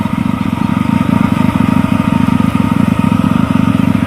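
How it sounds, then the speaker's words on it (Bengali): A rice harvesting machine runs loud and close, its engine giving a steady low rhythmic chugging drone throughout with no voices. "কি দারুন ধান কাটা মেশিন একবারই কতগুলো ধান কেটে নিচ্ছে"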